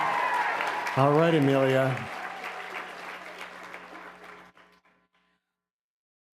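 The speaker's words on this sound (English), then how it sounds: "Another big round of applause." Audience applause at an award ceremony for a braille competition finals, a broad wash of clapping that runs behind a spoken announcement and then fades out to silence.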